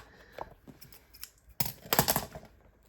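Scissors snip through packaging tape in a few short, sharp cuts, the last ones louder and crisper, with faint rustling between them.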